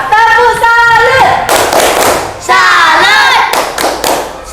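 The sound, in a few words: classroom 'tepuk salut' rhythmic clapping for group 2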